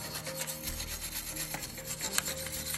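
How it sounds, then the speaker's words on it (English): A brass wire brush scrubs a stainless steel spoon held in a vise, giving steady, close rasping strokes that repeat without pause, with one sharper scrape near the end. "I'm gonna take the wire brush and just clean up any of this stuff here now while it's still in the vise"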